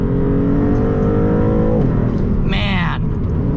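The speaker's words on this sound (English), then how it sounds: "the acceleration is really, really brutal" Maserati MC20, a light carbon-fibre sports car with 539 lb-ft of torque, accelerates hard from inside the cabin, its engine note rising loudly and steadily before a brief dip and a short high-pitched burst near the end.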